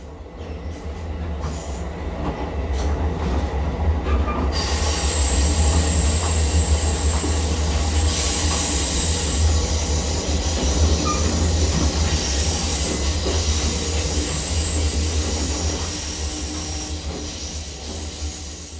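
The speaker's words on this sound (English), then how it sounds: "the train rumbled across the state of Alabama towards" An Amtrak passenger train rumbles steadily along the tracks through the night across Alabama, a continuous loud low roar with rail hiss and faint wheel squeal, heard from inside the train.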